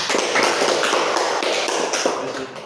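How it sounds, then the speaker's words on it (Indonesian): A classroom of students gives a short burst of applause for a presenting group, dense clapping filling the room at close range and fading slightly at the end. "kalau sudah jelas beri aplaus untuk kelompok 2"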